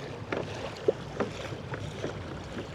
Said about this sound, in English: that little rope in the front is hitting the kayak